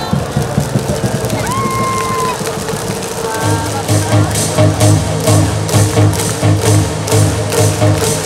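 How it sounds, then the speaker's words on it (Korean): A baseball stadium crowd at a KIA versus LG game claps and cheers, a dense wall of noise that swells into rhythmic chanted clapping in steady beats, with a loudspeaker voice talking over it and a whistle early on. "자, 우리 자리에서 일어나 함께 합시다. 태스 형에게 박수를 부탁드립니다."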